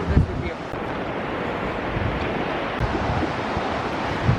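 A loud river flows nearby outdoors as a steady broadband rush of water, constant and fairly close, with some wind buffeting on the microphone.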